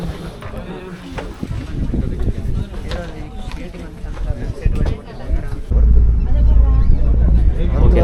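A crowded tourist boat on Periyar lake at Thekkady pulls away. Wind buffets the microphone and voices chatter at first, then a deep, steady engine rumble swells and holds.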